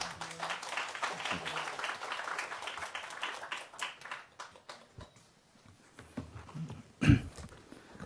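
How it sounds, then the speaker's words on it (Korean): An audience at a youth camp orientation applauds to welcome a National Assembly legislative investigator before his lecture; the clapping is moderate, fades after a few seconds, and is followed by a short thump and a voice. "여러분 뜨거운 박수로 맞이해 주시기 바랍니다"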